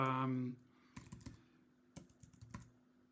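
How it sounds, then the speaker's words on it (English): Typing on a computer keyboard: short bursts of clicky keystrokes in three quick clusters, close and fairly quiet, following a brief moment of a man's speech at the start. "I can just type NR and then enter"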